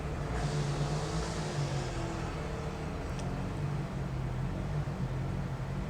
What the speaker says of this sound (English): excuse the noise, but they're doing lawn work